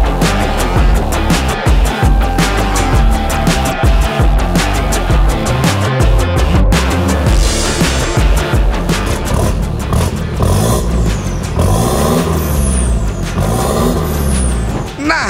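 Turbo diesel pickup fitted with a new aftermarket exhaust, loud and close, with bursts of revving and rough throbbing, hisses and clattering throughout, changing pitch as it rises and falls.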